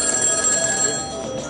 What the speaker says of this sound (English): the smartphone and the feature phone all ringing